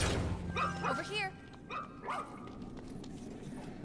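Robot dog Mack in the game ReCore barking several times in quick short yips, close and fairly loud, with little else around.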